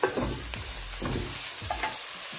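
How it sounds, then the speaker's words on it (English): Greens fry in a pan while being stirred, a constant loud sizzle broken by several scraping, clattering stirs of the utensil against the pan, with no talking. "So I'm just going to stir this a bit"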